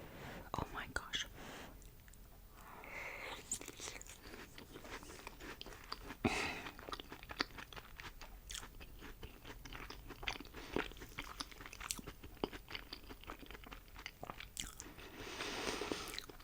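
A flaky chicken pot pie with crust on the top and bottom being eaten up close: steady crisp bites and crunchy chewing throughout, with soft whispering mixed in.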